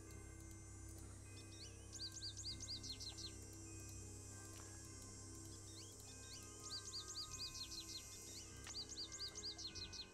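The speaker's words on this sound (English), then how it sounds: "It's a pretty bird that I hear." Bird call in the video game Nancy Drew: Ghost Dogs of Moon Lake: quick bursts of high, repeated chirps arrive in several clusters over a faint steady outdoor ambience with a low hum.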